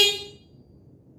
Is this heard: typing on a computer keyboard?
no